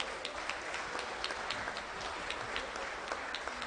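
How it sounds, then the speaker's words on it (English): A crowd at an Angus cattle sale applauding steadily, a sustained even wash of clapping with scattered sharper claps, heard from some distance. "another big round of applause for all the things that they've done"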